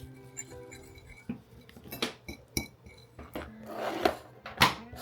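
Caesar salad with Parmesan cheese is tossed in a bowl, making intermittent clinks and scrapes of utensils against the dish. The taps come close and fairly quiet at an irregular rhythm, with no voices.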